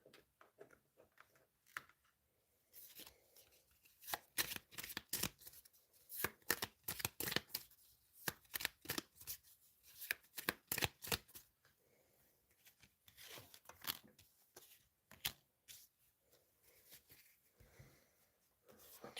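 Tarot cards are shuffled close up in bursts of rapid riffling clicks and soft slaps, pausing between rounds and then starting again, quiet overall with no voices.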